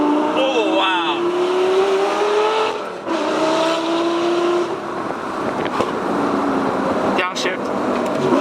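Straight-piped Lamborghini Gallardo Superleggera engine accelerating hard through the gears, a loud rising roar that drops at a shift and climbs again, with voices talking over it inside the car.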